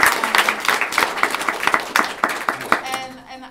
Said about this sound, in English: I just want to give Steve a round of applause for being here.